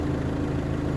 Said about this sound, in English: Okay, so the tractor's running